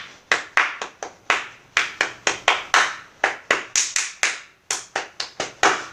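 Hands clap a double-clap rhythm for a madal drum beat, about twenty sharp, close claps in quick pairs and groups, with no talking.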